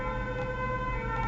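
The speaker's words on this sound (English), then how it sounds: "sorry about the siren there" A steady, loud emergency siren wails continuously, its tones holding nearly level throughout, with road noise beneath.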